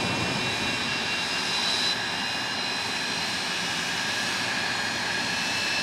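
The Magnitude jet truck engine at Rockford Speedway roars continuously, loud and steady, a dense whooshing jet rumble with a high whine layered over it, and no voices audible.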